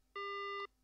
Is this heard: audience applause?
no